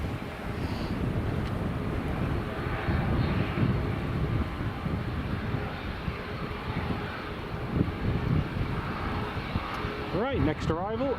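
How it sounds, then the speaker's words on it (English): Pegasus airliner taxiing onto a stand at Edinburgh Airport, a steady distant jet engine whine and rumble heavily mixed with microphone wind noise, continuous throughout. "that's Fly Pegasus just taxiing in on stand now"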